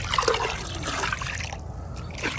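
Vitamin C ascorbic acid powder poured into hot tub water makes a soft trickling, splashing wash that briefly eases before picking up again.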